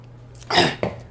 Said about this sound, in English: Or you can just slurp it in.